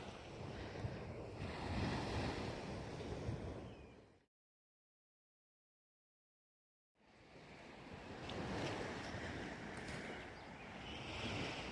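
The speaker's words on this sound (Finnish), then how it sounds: "Aallot tässä lyö rantaan," Waves break steadily on the shore beside a campsite, a loud, continuous surf wash roughened by wind buffeting the microphone, cutting out to silence for a few seconds midway before the rolling surf resumes.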